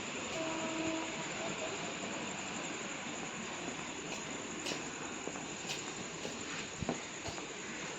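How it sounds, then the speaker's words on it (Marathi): A Mumbai local train rumbles steadily close by as it pulls into Charni Road station, with faint metallic squeals and clatter of wheels on rails. "बघ ट्रेन आलेली आहे"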